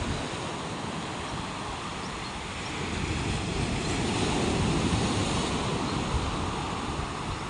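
A rough sea crashes and surges in a continuous loud wash of breaking waves, with wind buffeting the microphone throughout.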